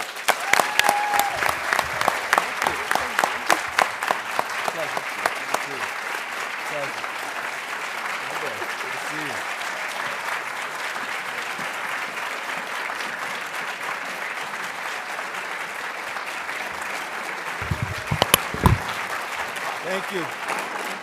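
An audience at a memorial lecture claps steadily for about twenty seconds as New York's Lieutenant Governor Antonio Delgado is welcomed. The sound is a dense, even wash of applause, with a few louder claps near the end.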